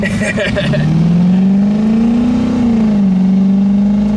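A 1967 Pontiac Firebird convertible's engine revs up loudly and holds a rising, then steady drone close by, as the car pulls away.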